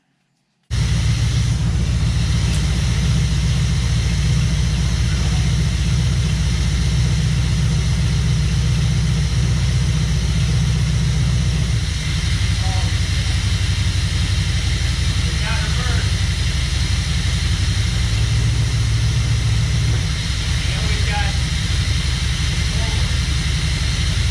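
A barn-find 1967 Chevrolet Camaro engine, running for the first time in 30 years, settles into a steady low rumbling idle close by and continues for over twenty seconds with small fluctuations, a voice briefly audible.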